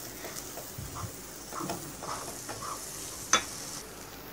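Gram flour halwa (besan ka halwa) being stirred in a pan, giving a soft, steady scraping with a faint sizzle underneath and one sharp clink of the utensil against the pan near the end.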